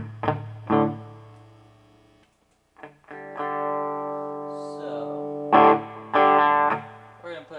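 Electric guitar played through a Fender Hot Rod Deluxe III on its green crunch channel at gain 4 with no reverb: two short stabs, then sustained chords ringing out and a few more struck chords, with a brief spoken word.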